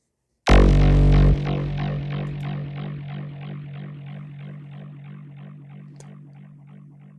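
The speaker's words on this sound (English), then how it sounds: "it really gives like that psychedelic, very long feedback that almost becomes like an atmosphere" A synth chord stabs loudly, then trails into long, repeating echoes from two high-feedback delays set at dotted 1/8 and dotted 1/4, blurring into a fading atmospheric wash over several seconds.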